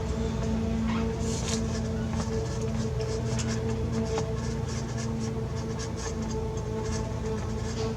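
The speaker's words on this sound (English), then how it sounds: "piece of paper so I can slide that on in there, and I'm just going to put some isopropyl alcohol on the paper" Folded paper dampened with isopropyl alcohol scrubbed back and forth inside the cartridge slot of a Sega Master System 2, a close, steady scratchy rubbing with faint ticks over a low background hum.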